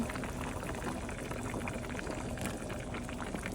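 Pork feet and pork ribs soup with taro and string beans simmers in a pot, giving a steady, close bubbling boil with no talking.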